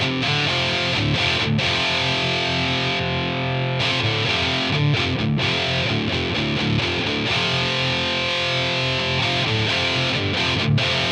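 Electric guitar through a Lichlaerm Audio Prometheus distortion pedal, playing thick sustained distorted chords with a few brief breaks between strums, loud and steady with no voices.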